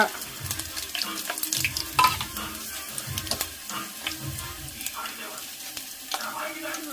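Dried red chillies, cumin and mustard seeds fry in hot oil with a steady close sizzle, interrupted by scrapes and knocks of a stirring spoon in the pan.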